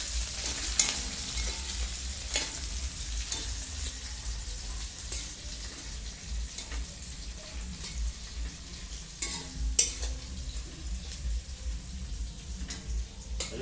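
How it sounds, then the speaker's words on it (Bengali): Steady sizzle of crab and onions frying in hot oil, with occasional clinks and scrapes of a utensil against the pan, close and continuous. "কাঁকড়া এগুলো একটু ভালো করে ভাজি নেই"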